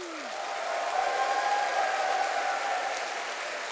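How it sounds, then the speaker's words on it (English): Steady applause from a crowd, a continuous wash of clapping that holds at an even level throughout. "let's have a big cheer and a big round of applause"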